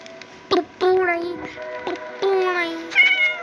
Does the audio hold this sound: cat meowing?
yes